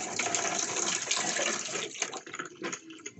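Running water splashes from a tap while sea shells are washed, a steady close gush that breaks into uneven splashes and trickles toward the end.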